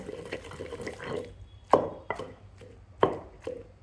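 Brinjal chutney being pounded coarsely by hand in a mortar, sounding as wet, irregular grinding and scraping with a few sharp, close knocks spaced about a second apart.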